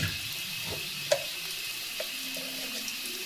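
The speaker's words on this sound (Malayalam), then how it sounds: "നന്നായിട്ടൊന്ന് വറുത്തെടുക്കാം" Mushrooms frying in a pan give a steady, soft sizzle with a broad hiss throughout, broken by a few light clicks of stirring, with no talk.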